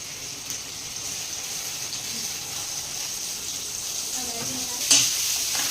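Chopped onion frying in a pan for a chicken dish, a soft steady sizzle with a brief clatter near the end.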